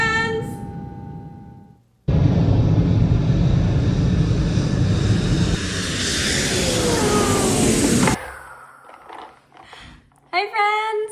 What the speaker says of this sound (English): I'm gonna land my plane